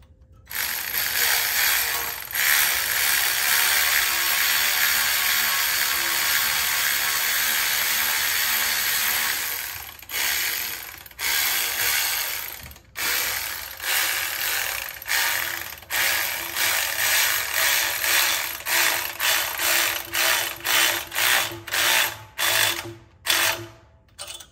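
A ratchet wrench tightens a clamp on a turbocharged Chevrolet Suburban build, giving a long run of rapid close clicking that breaks into shorter bursts of ratcheting strokes separated by brief pauses.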